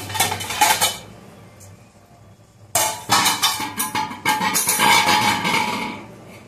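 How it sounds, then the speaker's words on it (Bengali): A metal lid lifted off a pan while cooking paneer, giving a few clinks and rattles, a pause, then a longer burst of clattering metal close by. "আমি আস্তে করে ঢাকাটা খুলছি"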